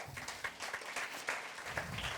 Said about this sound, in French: merci à tous de l'applaudir et de le remercier d'être là